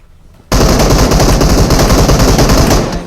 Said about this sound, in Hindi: गोली चला रहा था